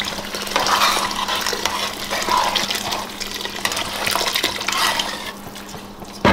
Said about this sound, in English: So I'm gonna add this water in here.